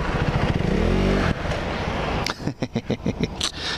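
A KTM Duke 390 single-cylinder motorcycle runs close by, a steady engine drone that drops off, then a series of sharp rhythmic pulses as the bike is ridden and revved.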